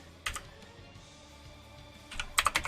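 Keys clatter on a computer keyboard during an online tabletop role-playing session, with a short burst of typing near the start and a quicker cluster of close, crisp keystrokes toward the end.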